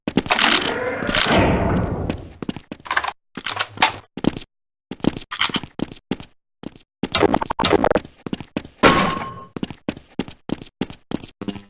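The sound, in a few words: weapon fire at target range in Half-Life Blue Shift video game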